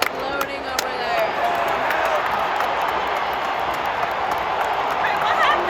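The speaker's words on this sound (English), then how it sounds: "The crowd is exploding over there." A crowd at a football game roars in a constant, diffuse wash of cheering heard from a distance, while a nearby person talks over it.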